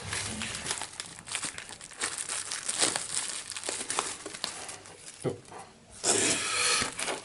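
Cellophane shrink wrap being peeled off a Magic: The Gathering board game box and its pieces, close and loud, with continuous irregular crinkling and crackling and a burst of brighter rustling near the end.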